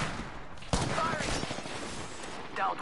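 Rapid gunfire bursts in the shooter game Apex Legends, a sharp crack followed by a clattering volley of shots, loud and close, with game voice lines heard over it.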